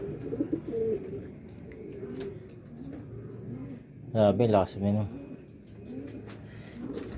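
Sick male racing pigeons coo in low, throaty bursts, loudest in a short run near the middle, while someone talks over them nearly throughout.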